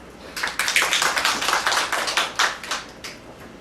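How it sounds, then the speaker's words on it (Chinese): Applause from a seated audience at a small-business management coaching workshop, a dense run of hand claps lasting a few seconds before fading out, heard without any speech. "掌声一下"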